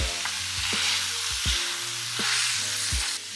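Thawing frozen spinach in a pan sizzles as water is added, a loud bubbling hiss broken by several sharp clinks and scrapes of stirring at irregular intervals.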